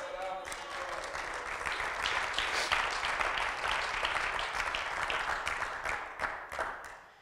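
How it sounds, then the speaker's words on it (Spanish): A church congregation applauds steadily, dense clapping swelling and then tapering off, with a voice heard over it. "denle un fuerte aplauso, Señor, hermanos."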